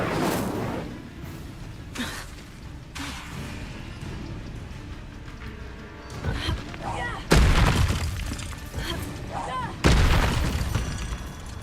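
An Incendio fire spell is cast in Hogwarts Legacy, a whooshing burst of flame with crackling booms, the loudest blasts landing in two sharp surges over a rumbling game background.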